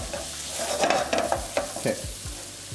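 Scrambled eggs and pork tongue for pad thai tossed in a hot pan, with sizzling and several quick scraping, clattering stirs of a spatula against the metal, close up; a voice speaks a single brief word.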